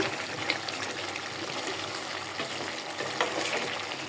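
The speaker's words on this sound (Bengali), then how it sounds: "দেখুন আমার গরুর মাংসটা কিন্তু কষানি হয়ে যাচ্ছে" Beef curry braising in a pot, a wet bubbling simmer with light trickling and occasional stirring knocks, steady and moderately close, without talk.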